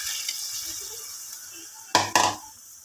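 A spoon scrapes twice against a pot of simmering beef kaldereta stew, two quick clattering strokes close by over a steady soft bubbling sizzle.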